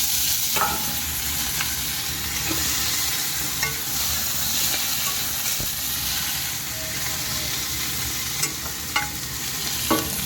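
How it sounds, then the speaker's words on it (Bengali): Onions fry in a pan with dried red chillies for a dal tempering, making a loud, continuous close sizzle broken by occasional scraping and stirring clicks, with no one speaking. "লাল লাল করে পেঁয়াজ ভাজা"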